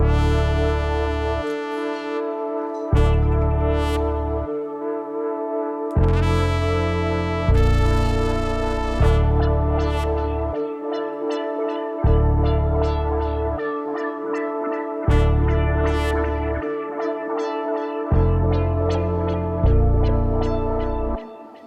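A dark trap sample loop built in FL Studio, with a looping minor chord progression and heavy low bass notes pulsing in repeated bars, up front and continuous without any voice.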